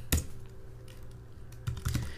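Quiet clicks of a computer keyboard as terminal commands are typed, a few scattered keystrokes with a low steady hum underneath.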